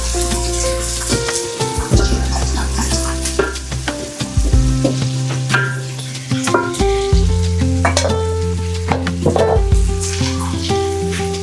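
Onions and carrots sizzle in a pot, a loud, close, steady frying hiss broken by spatula scrapes and clatter, with a tonal hum running beneath and no voices.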